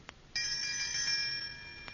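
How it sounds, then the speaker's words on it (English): Doorbell ringing as a radio drama sound effect, a single bright metallic ring that sustains for over a second and then cuts off, heard alone in a quiet room. "Now, this must be the doorbell."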